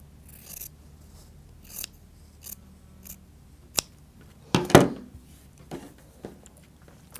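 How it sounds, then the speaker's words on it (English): Scissors snip through a strip of fabric in a quiet room, several short separate cuts spaced apart, with one louder, longer crunching cut near the middle. "I'm going to cut this off"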